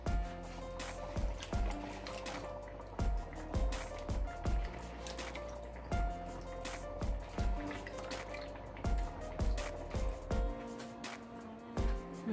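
Small cut potato pieces drop into a pot of water, making a run of wet plops and splashes at an uneven pace over a low background hum, close and fairly clear.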